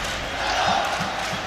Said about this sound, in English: The crowd getting into it right now, feeling the love for Talon